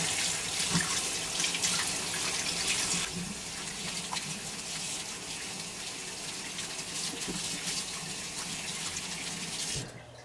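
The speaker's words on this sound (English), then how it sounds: "You want to wash it, rinse it real good. Don't use soap or anything. Just rinse it off real good." Beef tripe for homemade menudo is rinsed under a running kitchen sink tap: a steady, close gush of water that is louder for the first few seconds, then flows on evenly and cuts off near the end, with no talking.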